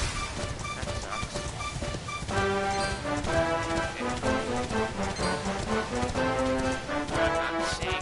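Horse hooves clip-clop at a steady running pace in the video game Dragon Quest XI, a rhythmic patter of hoofbeats under game music, with no talking.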